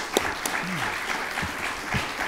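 Steady audience applause with dense, continuous clapping that stays even and moderately loud throughout.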